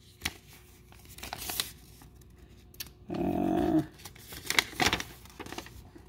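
Piece of paper being handled up close, with soft crinkling and tearing rustles in short bursts and one sustained scraping crinkle, fairly quiet against a still background.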